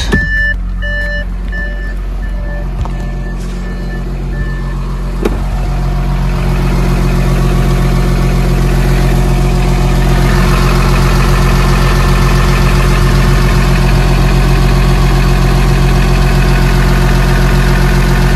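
A 2014 facelift Audi A8 D4 with the 3.0 TDI diesel idles just after starting, a steady close low drone with a few electronic beeps near the start.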